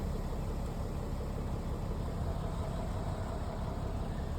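A car engine idles just after starting with the check engine light on, a steady, even low rumble that stays constant and moderately loud, with no talking.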